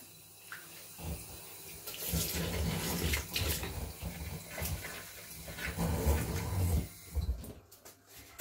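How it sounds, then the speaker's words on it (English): Water from a tap rinsing down a sink, running in a close, continuous splashing stream with uneven gushes, and a few thuds and clatters near the end. "I'm going to go across with my water. I'm just going to give it a good washing down."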